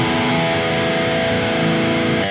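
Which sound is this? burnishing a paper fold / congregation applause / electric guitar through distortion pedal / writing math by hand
electric guitar through distortion pedal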